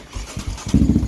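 Yamaha Raptor 700R ATV (2016) fitted with a Big Gun Evo R dual exhaust firing up, a short cranking burst catching into rapid, loud single-cylinder exhaust pulses close by.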